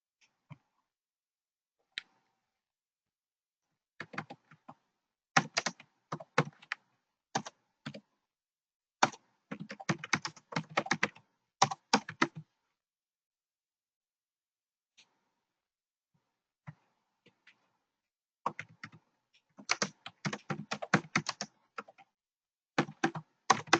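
Close computer keyboard typing comes in quick irregular bursts of clicking keys, separated by silent pauses, with no voices.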